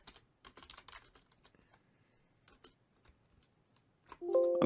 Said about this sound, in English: I don't know how loud it would be because I think it's a mechanical keyboard